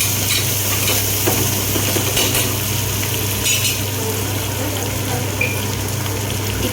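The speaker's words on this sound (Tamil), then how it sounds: "பச்சை மிளகா, காஞ்ச மிளகா இதை போட்டு நல்லா வதக்கிக்கணும்." Green and dried chillies with curry leaves sautéing in a pan, a dense continuous sizzle and crackle with faint stirring scrapes, steady and close throughout.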